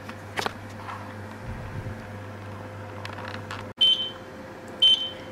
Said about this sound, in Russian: вот у нас сработал таймер сейчас